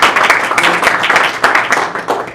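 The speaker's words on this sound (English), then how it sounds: "Can we give them a round of applause?" Audience clapping steadily after a first-year medical student is introduced, a dense, even patter of many hands held close and fairly loud for a couple of seconds.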